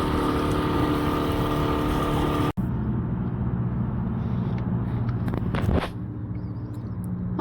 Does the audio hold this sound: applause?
no